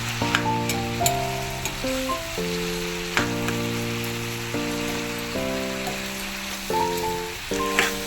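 Chopped tomatoes sauté in a pan for bitter gourd tamarind curry, giving a steady close sizzle and frying hiss with occasional stirring scrapes over background music, alone without talk.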